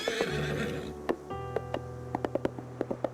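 A horse in the video game Silver Palace whinnies loudly, followed by a run of sharp hoof clip-clops that speed up and ring out clearly with no talk.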